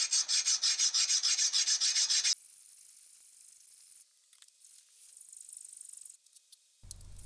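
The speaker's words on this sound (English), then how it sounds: "This is a hardened bolt, but a hacksaw should still cut it easily." Hacksaw blade cutting through a hardened steel bolt, a rapid run of rhythmic rasping strokes for about two seconds, then quieter intermittent scraping and handling noise.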